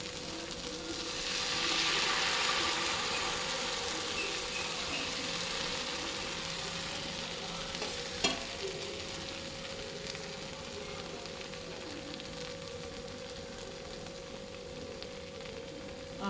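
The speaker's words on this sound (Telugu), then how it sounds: "తీసుకుని ఇలా పెనం మీద వేసుకోవాలి. వేసినప్పుడల్లా మీరు మిశ్రమాన్ని కలుపుతూ ఉండాలి," Rava dosa batter poured onto a hot pan sizzles in a steady soft hiss, swelling briefly near the start and then settling into a faint, even fizz with one small clack midway.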